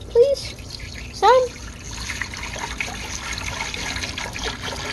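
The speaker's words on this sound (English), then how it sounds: "we're gonna add some water" Water trickles and splashes steadily into an ultrasonic cleaner, preceded by two short voiced bursts, likely speech.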